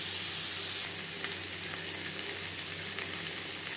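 Pumpkin and cauliflower fry gently with turmeric and salt, giving a steady, fairly quiet sizzle with faint stirring scrapes and no voices.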